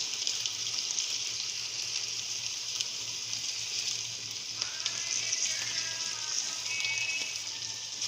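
Garlic and potatoes sauté in a hot pan with a constant bright sizzle and crackle, steady and close throughout and no talking.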